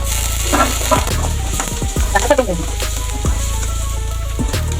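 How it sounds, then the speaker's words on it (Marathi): Onion and tomato fry in a pan for Khandeshi-style dal tadka, giving a loud, steady sizzle with clinks and scrapes of a spoon stirring, close up, and no talk over it. "चांगलं परतवून घ्यायचं कांदा चांगला परत"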